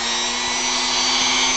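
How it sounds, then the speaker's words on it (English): Sanding a hand-carved lower leg of a Final Fantasy V model gives a steady, continuous abrasive rasp with a constant tonal hum beneath, close and even throughout without pauses. "a little bit of sanding does wonders"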